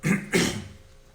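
Two quick, close throat-clearing rasps in a row, the second slightly longer, fading into quiet.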